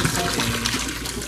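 Water poured from a pot through a clip-on strainer fastened to the pot's side, a brief, close, steady rushing splash with no talk over it.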